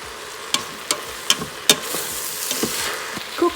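Onions and green chilies sizzle in a stainless steel Instant Pot, a steady crackling fry broken by several sharp scraping clicks of stirring.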